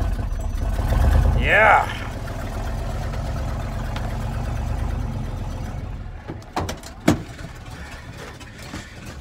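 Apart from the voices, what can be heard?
propane big block engine idling after a cold winter start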